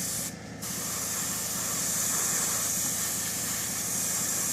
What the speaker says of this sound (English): I'll go over it with a dull coat. I'll satin varnish afterwards.